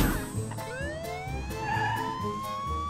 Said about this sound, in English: The police need a police car. Let's call for a police car.